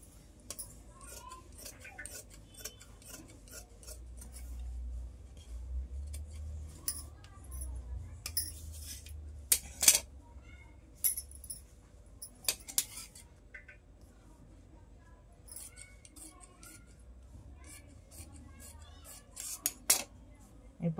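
Scissors snipping through fabric while a child's frock is cut out, giving a series of faint, sparse crisp snips spread over a quiet background with soft low rumble.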